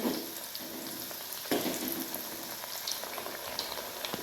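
Eggplant fritters (vangi bhaji) fry in hot oil over a medium flame, a close, steady sizzle with soft bubbling and an occasional louder crackle, no voices.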